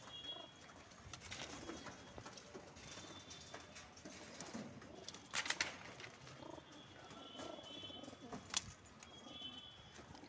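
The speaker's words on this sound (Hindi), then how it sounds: "कुछ कबूतर आ गए सेल के लिए।" Desi highflyer and Madrasi pigeons coo softly and repeatedly amid a rustling, shuffling background, with occasional louder bursts of wing or cage noise nearby.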